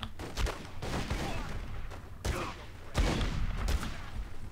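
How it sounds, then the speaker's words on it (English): Gunfire against police in The Godfather II, several bursts of moderately distant shooting with a rumbling, echoing quality, separated by short lulls. "We're now just shooting at the cops."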